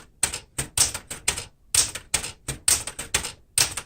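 A 1973 Smith-Corona Galaxie Twelve typewriter being typed on, with a steady run of sharp, close key strikes at a brisk, even rhythm and no voices.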